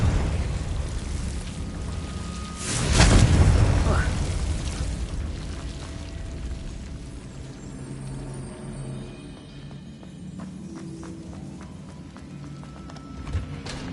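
Confringo blasting spell in Hogwarts Legacy, a loud burst of explosion around the third second that rumbles away, followed by quieter game effects and clattering, with some speech present.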